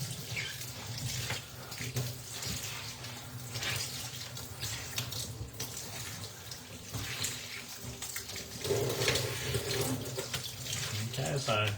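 Warm water pours steadily from a tap over a tie-dye spiral shirt being rinsed in a sink, a continuous splashing rush that swells and eases as the fabric moves, with some faint voice in the background.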